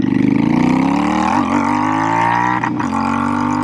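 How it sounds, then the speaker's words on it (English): A Royal Enfield Shotgun 650 motorcycle with aftermarket exhaust pipes revving up, a loud close rumbling drone that climbs steadily in pitch with two brief dips as the throttle is blipped, no talking. "What a beautiful sounding set of pipes."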